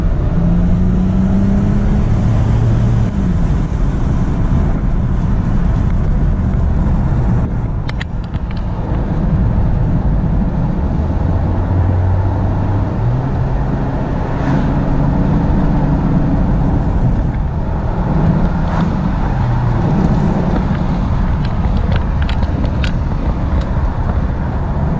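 A Mercedes E300 with the OM606 diesel engine drives and accelerates, its steady loud engine drone and road rumble continuous, with pitch rising and falling through the gears and no voices.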